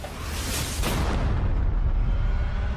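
A deep, rumbling boom of a ship's cannon firing chained cannonballs, rolling into a sustained low roar that fills the short clip.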